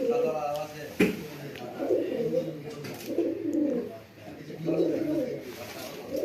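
Racing pigeons coo in low, swelling waves at a pigeon club tournament, with voices talking over them and a sharp knock near the start.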